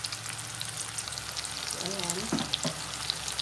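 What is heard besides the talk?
sweet potato fries frying in oil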